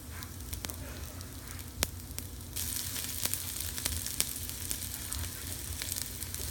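Garlic and shallots sizzle in hot avocado oil in a pan, a soft continuous crackle that grows busier partway through, with occasional sharper pops and spatters.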